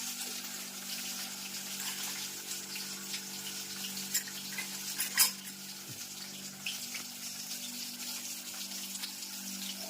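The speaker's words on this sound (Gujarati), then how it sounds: "ટમેટાનો વઘાર થઈ જશે જોઈ શકો છો" A tomato tempering sizzles in a pan with a steady, even hiss and a low background hum, no voices over it.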